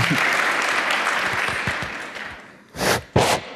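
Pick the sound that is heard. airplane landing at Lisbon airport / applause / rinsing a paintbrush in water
applause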